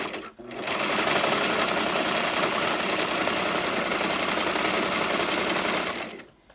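A sewing machine stitches wig tracks together for a closure wig, a loud, fast, steady mechanical rattle running continuously for several seconds before stopping.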